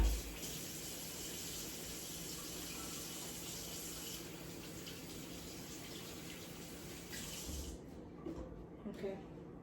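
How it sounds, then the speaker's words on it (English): Hands are washed under a running tap, a steady close gush of water filling most of the stretch before cutting off, followed by a few soft splashes and clatters. "let me wash my hands"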